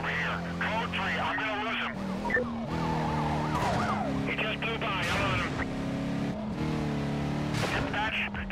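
A police car siren wails in Need for Speed: Carbon on PS2 during a career-mode chase, its rising and falling tones looping over car engine noise while someone talks throughout.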